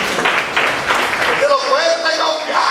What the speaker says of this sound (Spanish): Dale un aplauso si puede.